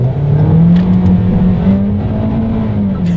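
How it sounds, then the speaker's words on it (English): A 2020 Toyota Corolla accelerating hard in sport mode on a wet road, the engine drone loud and steady as its pitch slowly rises, heard from inside the car. "let me press that here, and let's do a quick little acceleration test"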